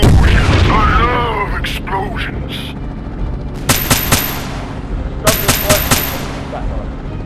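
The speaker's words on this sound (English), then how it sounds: "Explode!" Explosion with booming blasts and sharp cracks in short bursts, loud and close, following a shouted voice at the start.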